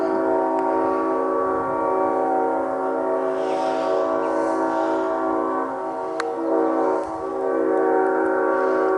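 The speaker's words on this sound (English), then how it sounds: "And that's a train." A passing train near a historical cemetery sounds its horn in a long sustained blast of layered tones, with the rumble of rail cars underneath, loud and steady for several seconds.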